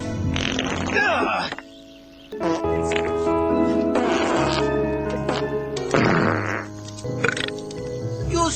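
Cartoon fart sounds from a Teenage Mutant Ninja Turtles 2003 episode, long wet sputtering blasts repeating in bursts over a busy soundtrack, with voices speaking in between.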